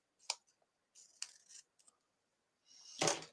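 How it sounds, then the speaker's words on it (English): Scissors trimming off overlapping card paper on a handmade Christmas tree card, a few short crisp snips in quiet surroundings, ending with a louder, longer cut. "Now, all I do is I turn it over and I just trim it off."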